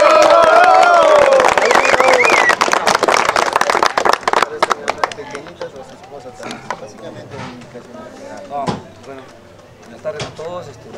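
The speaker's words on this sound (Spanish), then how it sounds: "démosle un fuerte aplauso a nuestro mayordomo" Applause for the mayordomo at the patron saint festival of Santiago de Yanaca, a dense outdoor crowd clapping loudly and steadily, then thinning into scattered claps as a voice speaks over it.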